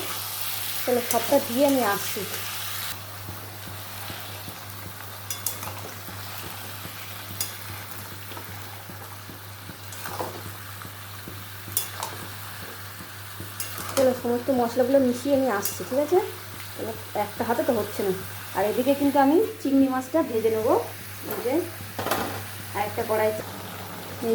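Boiled green jackfruit being stir-fried in a pan for a prawn and potato curry, with scraping and stirring noises and a steady low sizzle. Bursts of louder stirring come in the second half, with faint background sounds throughout.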